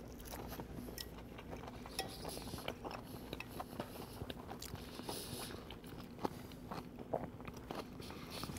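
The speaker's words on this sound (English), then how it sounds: "You got the crunch from the tostone too." Crunchy fried plantain tostones served with ceviche being bitten and chewed at a dinner table, faint close crunches and soft chewing with light clinks of cutlery and no talking.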